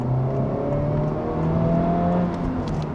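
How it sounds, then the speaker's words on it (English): A 2023 Honda Civic Type R engine with manual transmission, revving and rising in pitch as it accelerates, then blipping during a downshift rev match, loud and close throughout. "we do have downshift rev matching on this Civic Type R"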